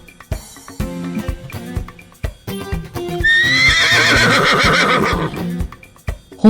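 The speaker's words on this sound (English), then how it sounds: "Horse." A horse lets out a loud, drawn-out whinny lasting a couple of seconds, heard over rhythmic background music with plucked notes.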